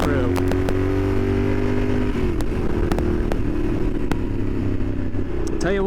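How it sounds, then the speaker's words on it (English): A Yamaha Super Ténéré 1200 adventure motorcycle pulls hard under throttle, its engine note droning and rising steadily while the rider is underway, with wind rush and a few clicks and knocks on top. "Rolling on the throttle here, and now it starts really pulling through."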